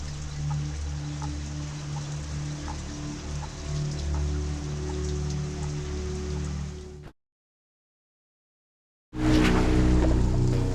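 Heavy rain pours steadily during monsoon flooding in Mumbai, a dense continuous hiss with low rumble that cuts out abruptly, then returns just as loud.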